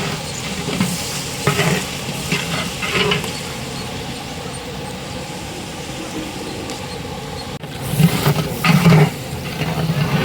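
Chillies, onions, capsicum and green peas roast in a large pan for outdoor catering, giving a steady sizzle with scraping stirs that swell louder toward the end.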